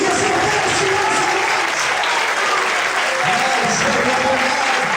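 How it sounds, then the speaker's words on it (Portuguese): A church congregation applauds together at a service, a dense, steady wash of clapping that fills the room for the whole stretch, with faint voices and cheers mixed beneath it. "Todos podem aplaudir e exaltar o Senhor essa"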